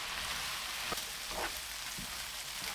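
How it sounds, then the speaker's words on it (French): Rice coated with sweet chili powder and yellow coloring sizzles steadily in a frying pan for a seafood and chorizo rice dish, with a few soft stirring scrapes over the constant crackle. "Je remue brièvement pour bien enrober les grains de riz"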